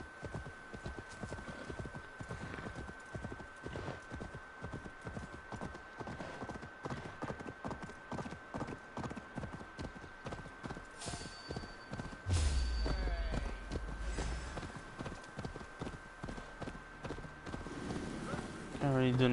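Rapid, steady clip-clop of horse hooves in a video game, running continuously and loud throughout, with a deeper rumbling passage partway through and speech over it at times.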